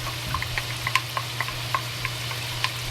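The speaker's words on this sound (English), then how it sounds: "And fry it." Pork sizzling in hot oil and fat in a pot with ginger and scallion just added, a steady close frying hiss with scattered small pops and crackles throughout.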